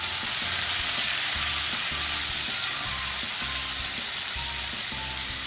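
Chopped tomatoes sizzling loudly in a hot frying pan while making peanut chutney, a steady hiss with occasional stirring scrapes.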